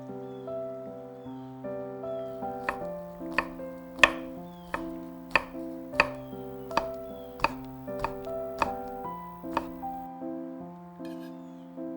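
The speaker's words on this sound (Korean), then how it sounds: "표고버섯은 얇게 포를 뜬 뒤 채 썹니다." Knife julienning thinly sliced shiitake mushrooms on a cutting board, a steady run of sharp, evenly spaced chops up close over soft background music.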